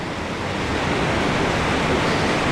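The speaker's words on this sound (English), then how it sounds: "Water coming out of it right there. Little class 2 rapid at the" A small class 2 rapid on Battle Creek, California, pours over a natural rock ledge as a loud, dense, continuous roar of rushing whitewater, heard close with no voices over it.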